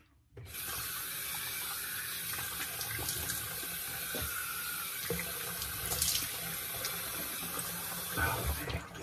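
Water from a bathroom tap runs steadily into a sink while shave soap lather is rinsed off, a close, continuous splashing hiss with small surges and hand movements under the stream.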